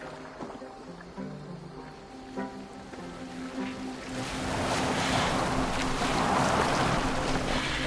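Boat gliding over open water in Assassin's Creed Valhalla, with a low tonal hum at first, then a steady wash of waves and wind swelling louder through the second half.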